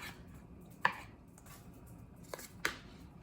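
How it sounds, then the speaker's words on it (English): A knife slices through a tomato on a cutting board, landing in two or three soft, separate cuts over quiet room tone, with no one speaking. "So just slice the tomato."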